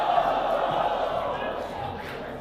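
Crowd of people shouting and cheering at a San Juan fiesta, a dense, loud, continuous wall of many voices with no gaps.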